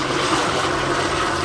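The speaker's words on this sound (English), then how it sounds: "they've called in the helicopter to look onto the roof" Police helicopter flying over a Los Angeles neighborhood to search a rooftop, its steady broadband rotor and engine roar continuous and loud throughout without pause.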